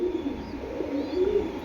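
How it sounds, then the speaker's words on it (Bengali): A racing pigeon wearing a club leg tag coos softly and steadily, with low repeated throaty calls over faint background hum. "একটা ক্লাবের ট্যাগ পরা কবুতর"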